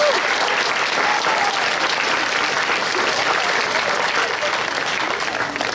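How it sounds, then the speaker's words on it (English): An outdoor audience at a school district's solar ribbon-cutting ceremony gives a loud, steady round of applause that holds evenly for several seconds. "Let's give them a huge, big round of applause."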